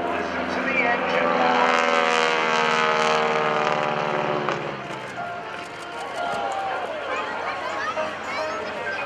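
A stunt plane's propeller engine drones loudly and steadily at an airshow, its pitch shifting and sagging midway during a super slow roll, with no pauses.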